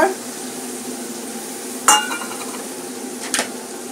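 Ground chili, turmeric and tomato frying in an oil-filled pan, a steady close sizzle broken by two sharp scraping clanks of a spoon stirring against the metal.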